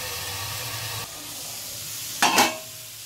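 Chicken kathi kabab frying on a tawa, a steady close sizzle that drops after a second and then gives way to a brief sharper hiss and clatter near the end.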